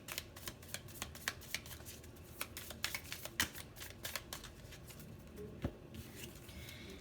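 A deck of tarot cards is shuffled and drawn for a love reading, with close, brisk riffling and snapping card flicks in quick, uneven bursts and no talking.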